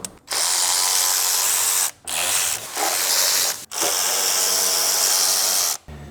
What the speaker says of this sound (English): I'm just going to use a 10 swivel, get down in here and break them all loose.